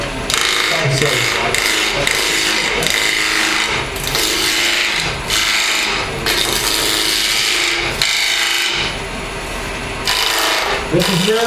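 Skew chisel cutting spinning redwood on a woodturning lathe, with loud rasping, scraping strokes that rise and fall in repeated passes and brief gaps between cuts.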